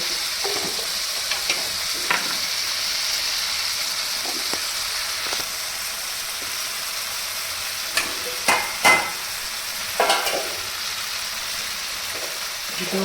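Food is sautéed in a pan, a continuous sizzle broken by scattered spatula scrapes and knocks that cluster toward the end, heard close with no talking.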